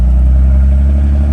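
A high-mileage Dodge Ram standard-output pickup truck accelerating, its engine making a loud, steady low drone that holds throughout a short burst.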